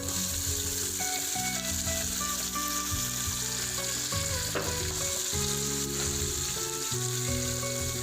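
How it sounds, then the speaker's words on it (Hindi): Garlic, ginger and tomatoes sizzling steadily as they fry in a pan for chickpea curry, with occasional stirring scrapes, close and continuous with no talk. "अब इसको ज़रा यूँ भूनना।"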